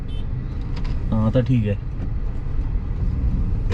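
Highway traffic of trucks and cars rumbles past a car waiting to cross a highway in Konkan near Kudal. A steady low engine and road roar continues throughout, and someone speaks briefly near the middle.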